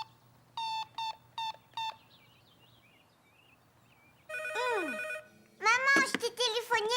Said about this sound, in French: Maman, je t'ai téléphoné et le téléphone a sonné.